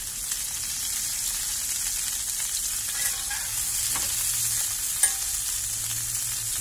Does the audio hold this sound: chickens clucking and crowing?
no